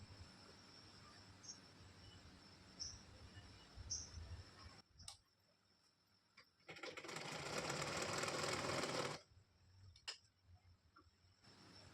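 Home sewing machine stitching fabric pieces together to make hair scrunchies, a steady mechanical whir in a burst of about two seconds, with softer motor sounds before and after against a quiet room.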